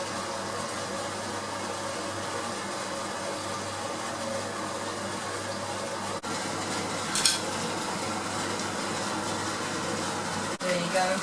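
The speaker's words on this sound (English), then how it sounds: "We can fry them in a batch." Spring rolls frying in a pan of oil give a steady, moderately loud sizzle from start to finish, with a couple of brief knocks partway through.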